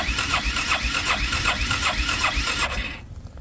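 A cold engine on an off-grid homestead property cranks with a pulsing, rhythmic starter churn and strains to catch, run on choke. The turning goes on steadily for nearly three seconds, then drops away into quieter rumble.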